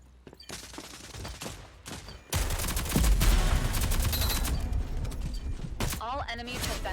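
Rapid gunfire from the video game Rogue Company erupts loudly after a quieter opening, sustained bursts of shots dominating the mix during a bomb round.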